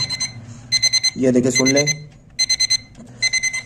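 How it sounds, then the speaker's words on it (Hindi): A table alarm clock beeps loudly and close by in rapid repeated bursts of about four tones each. Someone speaks briefly between the bursts. "जैसे ही 4 बजे हैं तो हमारा अलार्म चलने लग गया है।"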